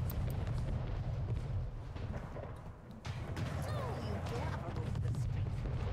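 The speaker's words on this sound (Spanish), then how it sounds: "Ya están los tiros." Gunfire and shots in an Anno 1800 war battle, a dense, steady wash of distant crackling fire and booms running throughout at low level.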